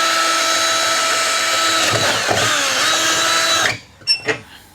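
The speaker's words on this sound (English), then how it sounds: "you take you a drill bit and you start drilling, and just drill where the dots are" A power drill bores holes in tail light filler panels for a 1979 Cadillac DeVille, whining steadily at high speed with a brief dip in pitch, then cutting off, followed by a couple of short clicks.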